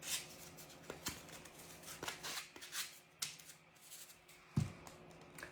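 Hand sanding of a decoupaged pumpkin covered in blue and white paper napkins and mod podge, quiet irregular scratchy rubbing strokes with soft taps and handling noises, close and faint, no talking.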